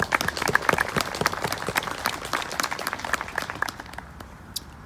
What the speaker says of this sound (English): I just want y'all to give yourselves a round of applause for that.